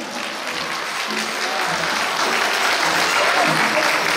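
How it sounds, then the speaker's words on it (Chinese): Audience applause at a kindergarten graduation ceremony, steady dense clapping from a crowd of parents that fills the whole stretch at even strength. "拍手。"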